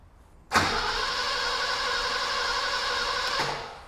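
A BMW E21 323i engine cranks briefly, fires and settles into a steady, loud idle for about three seconds before cutting off, close by with no talking.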